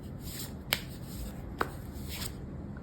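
Tarot cards are shuffled close by in a quiet room, a soft papery riffle with two sharp snaps as the deck is cut or tapped, faint and spaced about a second apart.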